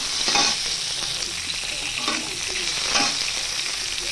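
Onion and garlic frying in a pan, with occasional stirring scrapes, a continuous close sizzle and crackle that swells a few times, no voices over it.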